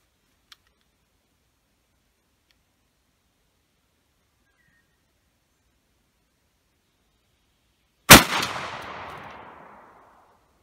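A single loud rifle shot fired at a container target outdoors cracks sharply near the end after long near-silence, followed by a brief decaying echo; a faint click sounds early on.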